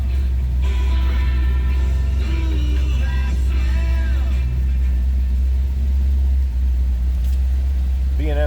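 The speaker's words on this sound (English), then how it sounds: "Let's go ahead and fire this up." A 1979 Chevrolet Camaro restomod engine idles with a steady, deep low rumble throughout, close and constant, while faint voice-like sounds drift over it.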